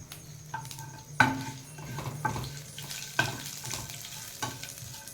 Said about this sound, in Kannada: ಇಷ್ಟನ್ನು ಲೋ ಫ್ಲೇಮಲ್ಲಿ ಹಾಕಿ ಸ್ವಲ್ಪ ಫ್ರೈ ಮಾಡಿ